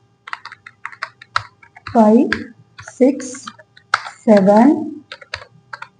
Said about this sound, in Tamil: இப்ப டைப் பண்ணியாச்சு